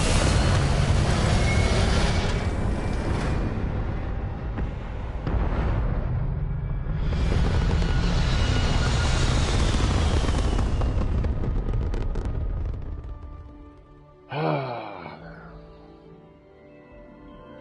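A spaceship lifts off in the sci-fi game Starfield, a loud roaring rocket-like rush with low rumble that swells twice and then fades, followed by a short whooshing sweep and quieter tail.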